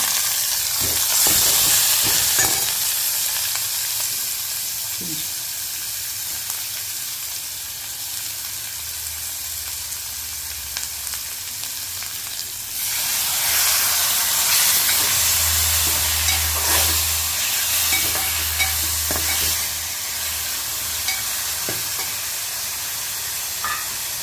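Dried prawns and raw mango curry frying in a pan, with a continuous loud hissing sizzle that rises in intensity partway through. Occasional stirring scrapes and low rumbles are heard, with no talking.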